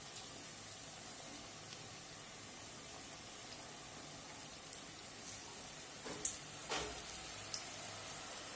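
Dough snacks, dropped one at a time into hot oil, fry with a continuous broadband sizzle that holds steady, plus a few soft pops and bursts near the end, close and without talking.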